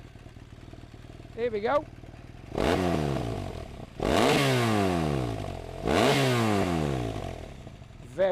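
BMW R1200RS motorcycle with a standard Leo Vince exhaust, baffle fitted, revved three times in a row, each throaty burst climbing sharply and then falling back toward idle; someone speaks briefly before the revs begin.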